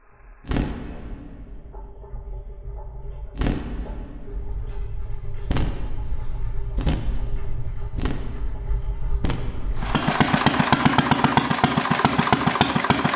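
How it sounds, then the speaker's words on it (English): A see-through gasoline engine turns over and settles into a steady idle, with several sharp clanks along the way, then revs up into a loud, rapid rumble near the end. "if they would dare to run the engine on gasoline for me"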